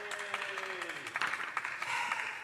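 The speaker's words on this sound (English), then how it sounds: "If we could have a round of applause" Scattered applause from members in a parliament chamber during a bill's second reading debate, fairly quiet and thin, lasting a couple of seconds.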